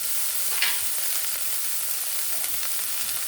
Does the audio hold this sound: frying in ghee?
yes